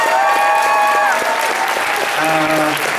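Loud, sustained applause from a large audience at an anime convention closing ceremony fills the whole stretch, steady clapping with a few tonal sounds over it.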